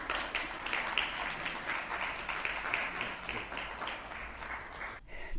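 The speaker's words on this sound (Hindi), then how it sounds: "कृपया तालियों का क्रम रुकने मत दीजिए।" Audience clapping at a welcome ceremony during a raw diet camp session in Jabalpur, steady moderate applause from a seated crowd that thins briefly near the end before resuming.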